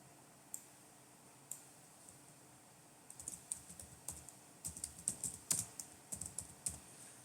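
Keys clatter on a computer keyboard in quick, uneven bursts of clicks, quiet at first and then steady and close through the second half, with no one talking.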